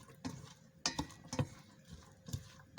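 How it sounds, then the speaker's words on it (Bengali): Chopped onions, whole green chilies, ginger-garlic paste and cumin paste are stirred in hot mustard oil. A spoon scrapes and taps the pan in a few soft, irregular strokes over a faint, quiet sizzle. "গরম খাঁটি সরিষা তেলের সঙ্গে পেঁয়াজ কুচি, গোটা কাঁচামরিচ, আদা রসুন বাটা, জিরা বাটা খুব সুন্দরভাবে নেড়ে চেড়ে মিক্সড করে নিচ্ছি"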